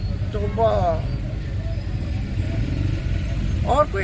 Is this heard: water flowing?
no